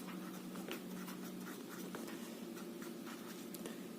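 Pen scratching across paper while working a maths problem, a continuous soft scribbling with quick strokes, faint and close under a low steady room hum.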